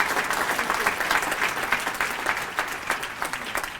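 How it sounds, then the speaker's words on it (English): Luncheon audience at a Martin Luther King Jr. Vision Day prayer event giving a round of applause, many hands clapping in a steady, full crowd sound. "Why don't we start with one more round of applause for that one?"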